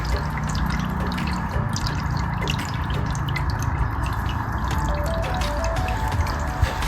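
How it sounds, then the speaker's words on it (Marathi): Water flows steadily out of a Shiva lingam inside a village temple, a continuous trickling wash with soft dripping, fairly loud and close throughout with no talking. "आणि आतमध्ये पाणी बघा कसं बाहेर येतं."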